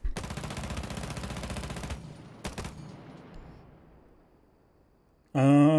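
Automatic gunfire in the console game Rainbow Six Siege, from a low-recoil gun with a dot sight. A rapid sustained burst lasts about two seconds, a short second burst follows, the echo fades out, and a loud tonal game sound cuts in at the end.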